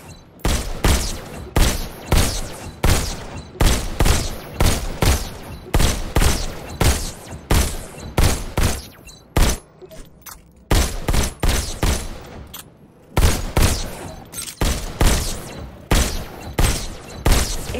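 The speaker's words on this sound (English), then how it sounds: "Just squeeze the trigger to shoot." Rapid, loud pistol shots fired in quick bursts in the VR shooter Robo Recall, each crack sharp and close, with a brief pause midway before firing resumes.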